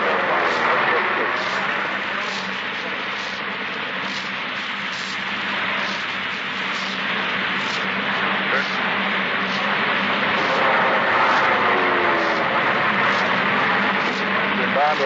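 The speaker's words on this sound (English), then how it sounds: "They're coming in now and dropping their planes." A World War II bomber's engines drone through a thin, band-limited 1944 radio news broadcast as the aircraft comes in to dive and drop bombs, a continuous roar with someone talking over it.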